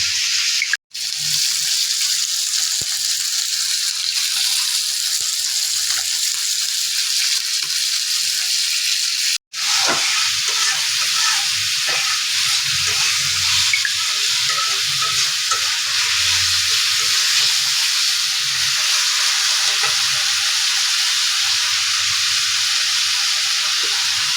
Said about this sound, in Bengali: এক পাশটা ভাজা হয়েছে পরের পাশটা যে আবার ভাজতে হয়